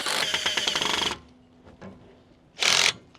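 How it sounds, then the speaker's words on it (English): A power tool drives screws into a Big Green Egg modular nest in a dense mechanical whirring burst, pauses through a quiet stretch, then fires again in a short, loud second burst. "power tools."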